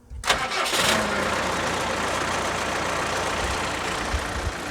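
A Bandit 200XP wood chipper's engine cranks and catches, then settles into a steady, loud running roar close by, with no talk over it.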